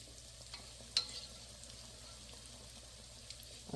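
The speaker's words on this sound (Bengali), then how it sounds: "আস্তে আস্তে নেড়ে দেবো, যেন কারো জোড়া লেগে না থাকে" Sugar-free date-milk pitha simmering in milk over low heat while being gently stirred: a faint, soft bubbling with a quiet scrape or two, no voices.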